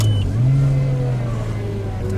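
Car engine revving and accelerating nearby, fitted with twin cone K&N air filters, a steady loud engine drone with rising pitch and a faint squeal on top, running continuously throughout.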